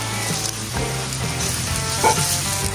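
Chicken gizzards and liver fry in oil with plenty of garlic, a loud, steady close sizzle with faint stirring.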